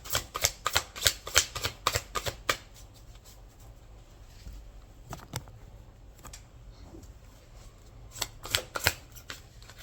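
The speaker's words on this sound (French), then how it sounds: "Je vais juste prendre les cartes et je termine." Tarot cards being handled and shuffled by hand, a close, crisp flurry of rapid riffling and slapping at the start, then scattered soft taps and a final quick burst of shuffling, with no speech.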